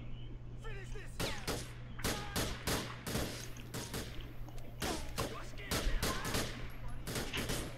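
Repeated sharp gunshots ring out in a GTA IV shootout during a state police patrol, a dense run of loud cracks with short gaps, mixed with some talk in the background.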